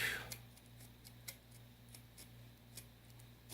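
Scissors snipping through a fairly tough plastic bottle, a few faint, sharp clicks spaced irregularly over a steady low hum, with no talk.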